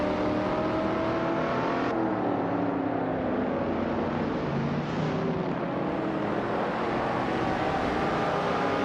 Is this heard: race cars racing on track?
yes